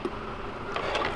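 Honey bees from a feral bee tree hum in a steady, moderately loud insect drone near the hive, with a few closer wingbeat swells toward the end.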